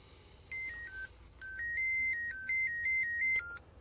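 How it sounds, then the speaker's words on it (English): An Innway Accent smart wallet tracker sounding its alert tone, a loud electronic melody of stepped high beeps in bursts, one short phrase, a pause, then a longer run, close and clear. "There's the alert tone, so you can change it so you don't have to hear that one."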